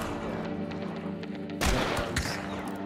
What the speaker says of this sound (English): That was a random explosion.